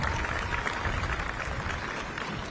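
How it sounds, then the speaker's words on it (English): An audience at an Arizona America250 event gives a round of applause, a brief, continuous wash of many hands clapping that stays fairly even throughout. "let's give her a round of applause for being in charge of this whole thing"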